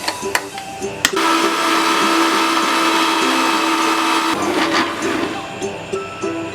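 A mixer grinder whirs steadily at high speed as it grinds peanuts into homemade peanut butter, a loud continuous motor drone with a brief stop and restart near the start and a drop in pitch toward the end.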